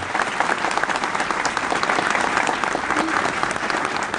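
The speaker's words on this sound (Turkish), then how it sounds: "Onları da üç adayımızla kuvvetli bir şekilde alkışlamanızı istiyorum arkadaşlar" Audience at an Ayvalık mayoral candidate's rally applauding loudly and steadily, a dense wash of many hands clapping with crowd noise throughout.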